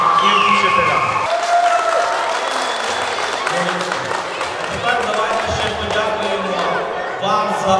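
Applause and crowd noise thanking Lyceum No. 3 at a school sports event, with loud sustained clapping mixed with voices and background chatter throughout.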